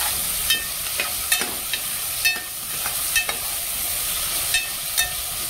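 Okra sizzles steadily in hot oil in a pan as it is stirred, with a constant fine crackle broken by a string of sharp scraping clicks from the stirring utensil every half second or so.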